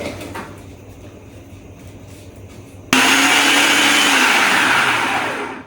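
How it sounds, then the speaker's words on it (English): A food processor switches on about halfway through with a loud, steady whirring roar that winds down slightly at the end, after a quieter stretch of kitchen sounds. "so on to our food processor"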